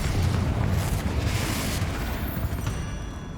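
Confringo blasting spell going off in Hogwarts Legacy: a loud, booming explosion with a broad rumbling roar that fills the whole moment and slowly fades toward the end.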